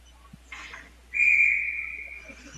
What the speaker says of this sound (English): Offsides there, so 2 quick whistles.